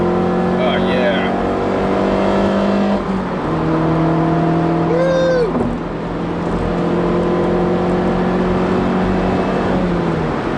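A 2015 Mazda3s with modifications accelerates hard, engine revving rising in pitch through gears with a shift break, heard from inside the car, loud and continuous.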